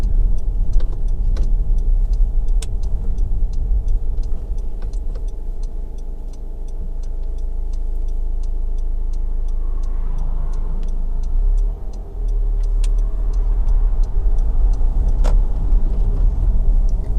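A Honda CR-V 1.6 i-DTEC Black Edition 4WD diesel driving on a main road, a steady low engine and road drone from inside the cabin, with faint repeated ticking clicks over it and a short dip near the end.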